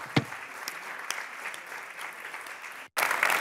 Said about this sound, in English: And so just another warm round of applause and a photo for all of these people who helped make that happen